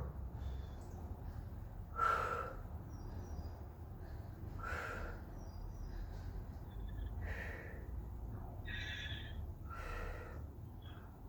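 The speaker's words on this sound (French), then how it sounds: "On souffle, on inspire." Slow, deliberate breaths during a floor exercise class, with several soft exhales and inhales spaced a few seconds apart over quiet background hum.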